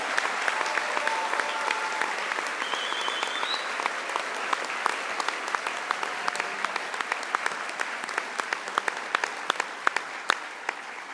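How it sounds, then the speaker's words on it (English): Sustained applause from a large audience at a medical school white coat ceremony, dense and even throughout, with sharper individual claps standing out toward the end. "Let's have a round of applause for the class of 2028"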